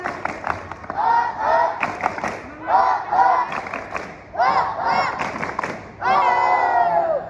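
Schoolchildren shout the tepuk semangat clapping chant together, short loud rhythmic vocal bursts punctuated by claps, ending in a long sustained group shout.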